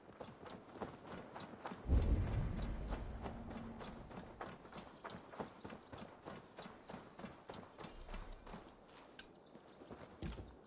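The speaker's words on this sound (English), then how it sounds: "Let the horses go by, I guess." Horses clip-clop past in Assassin's Creed Valhalla, a burst of hoofbeats and a heavy thud near the start, then quieter irregular hoof taps fading over the rest.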